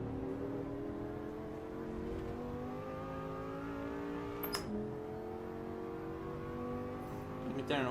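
A car engine in the racing game Assetto Corsa EVO holds a steady, droning note with rising pitch, broken near the middle by a short crackling burble from the exhaust and a few more pops near the end.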